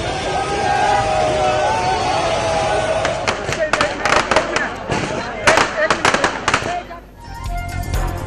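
Fireworks crackle and pop in rapid bursts at street celebrations in Lahore and Islamabad, heard over a constant roar of crowd noise, with the cluster of bangs thickening midway before fading.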